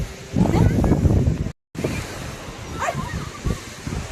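A dog barks a few times outdoors over steady wind and rushing surf-like noise; a brief dropout cuts the sound midway.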